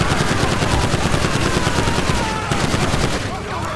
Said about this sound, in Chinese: 机枪吧？